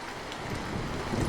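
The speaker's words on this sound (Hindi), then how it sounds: "तभी मौसम ने करवट बदली और बारिश शुरू हो गई।" Rain beginning during a storm in a cartoon forest, a dense rushing wash of falling water and wind-like noise that builds steadily, ending on a brief sharp burst.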